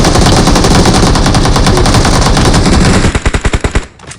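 Rapid automatic gunfire in a video game, loud and close, a sustained burst that breaks into several separate shots before stopping.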